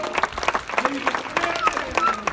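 A short burst of audience applause follows a match, scattered clapping mixed with voices and crowd murmur, moderately loud.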